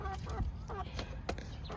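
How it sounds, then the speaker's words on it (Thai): A young yellow rooster with a white tail, weighing 3.3 kg, gives a few short clucking calls close by, with soft farmyard noise between them. "ไก่ยังหนุ่มอยู่นะครับ"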